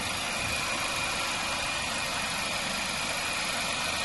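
A 2016 Nissan Qashqai 1.2 Turbo DIG-T engine at operating temperature idles steadily and smoothly, a constant even hum with no revving or talking, heard close by.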